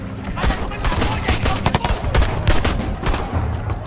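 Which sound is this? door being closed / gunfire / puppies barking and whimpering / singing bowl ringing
gunfire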